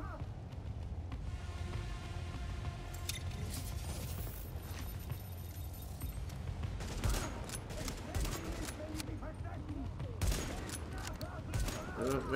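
Rapid bursts of gunfire in the video game The Division crackle in quick volleys, mixed with mechanical clanks and game effects, moderately loud throughout.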